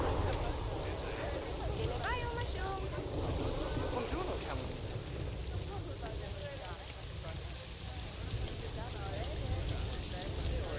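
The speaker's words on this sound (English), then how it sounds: "Kind of not in love with this rain." Rain falling in the zoo-building video game Planet Zoo, a steady hiss of rainfall that runs throughout under other game ambience and a person talking.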